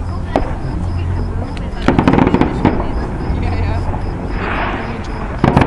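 Fourth of July fireworks burst overhead, several sharp booms and crackles at moderate distance with a rumbling tail, while people chat nearby.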